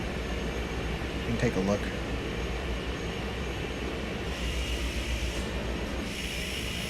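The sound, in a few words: aircraft rolling down runway in a flight simulator video game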